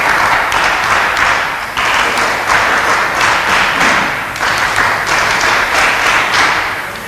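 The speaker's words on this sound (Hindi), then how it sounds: "जोर से तालियों से स्वागत कीजिए" A crowd at a Hindi-language news forum event in Khargone applauds a guest coming on stage, loud dense clapping with thumping bursts running throughout.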